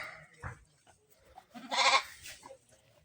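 Ewes and lambs at a livestock market in Bukhara's G'ijduvon area let out a few short bleats, one loud and close near the middle and fainter ones around it.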